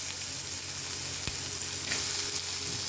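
Snake gourd frying in hot oil with asafoetida gives a steady, loud, close sizzle that stays continuous throughout, with one sharp click partway and no talking.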